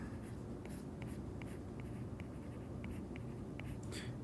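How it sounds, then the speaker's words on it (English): Pen or marker writing out a physics momentum equation, quiet scratchy strokes in short repeated bursts over a steady low hum, with no talking. "I can write that out."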